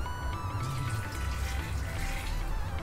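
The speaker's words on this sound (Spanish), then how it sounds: "Agregamos un poco de agua." Water pours steadily into a blender holding fruit and orange slices for a fruit michelada, a continuous close splashing fill with no voices.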